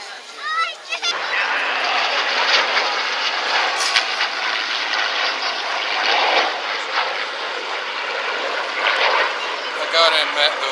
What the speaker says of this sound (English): you have to love the Spitfires